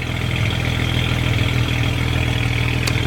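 A BMW 335i engine with downpipes idles through the stock exhaust with a steady low rumble and exhaust drone, constant and close throughout.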